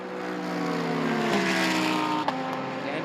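GT race cars, including a BMW M4, roaring past on a racetrack during an 8-hour endurance race at Indianapolis, loud sustained engine drone with pitch shifting as cars pass, a brief sharp pop near the end.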